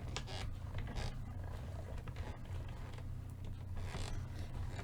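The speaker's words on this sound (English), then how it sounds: "Gets a little tight, and you hear that big clunk." A dry embossing machine creaks and clunks as binding is cranked through, with a steady low mechanical rumble under irregular squeaks and clicks, quiet and close.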